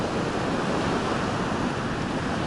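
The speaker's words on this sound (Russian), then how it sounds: "Неспокойно море, волнуется." Rough Black Sea surf breaking on the shore in June, a steady, loud wash of waves with continuous broadband roar and some wind, no voices.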